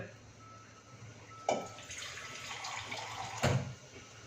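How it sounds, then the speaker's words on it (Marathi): Water is poured into a pot of moong dal and rice khichdi with vegetables in two short splashes, one near the start and one near the end, over low kitchen background noise. "पाणी आपल्या अंदाजानेच घालायचं आहे, कारण खिचडी थोडीशी पातळच असते।"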